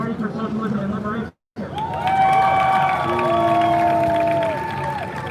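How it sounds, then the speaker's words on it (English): A protest rally crowd at the DNC breaks into applause and cheering, a broad wash of clapping and shouts under a harmonic voice, briefly cut to silence before swelling again. "give a round of applause for Party for Socialism and Liberation"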